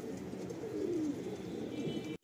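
Madrasi pigeons coo softly in low, drawn-out murmurs over a steady background hum, ending with a brief cutoff.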